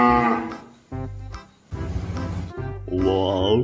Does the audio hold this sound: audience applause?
no